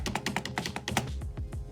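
Mechanical keyboard with brown switches, a Logitech G213 Prodigy, typed on in a quick run of close, crisp keystrokes, about a dozen clacks in under two seconds with no voices.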